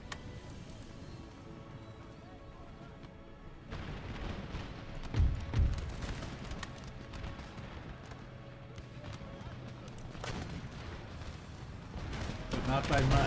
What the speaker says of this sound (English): The cannon is focused on the line infantry to help us out until we get out of square formation.